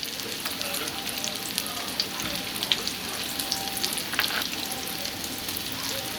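Fish cutlets frying in hot oil, a steady, close sizzle and crackle with small pops throughout, loud and continuous with no talk.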